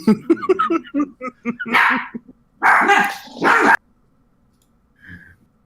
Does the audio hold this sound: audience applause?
no